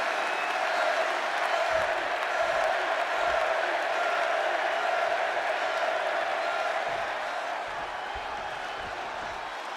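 A wrestling video game arena crowd in Chicago roars and applauds in a continuous, dense wash of cheering that stays steady and slightly fades toward the end, with faint thumps underneath.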